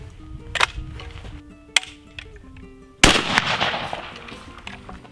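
Shotgun firing a shell from a reloaded hull loaded for the second time, a single loud close blast with a sharp attack and ringing decay, preceded by faint handling clicks.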